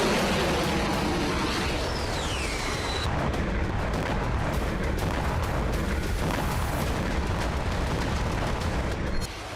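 Explosions from Ukrainian strikes on Russian territory roar as a loud, continuous rumble of heavy blasts and booms, dense and unbroken throughout.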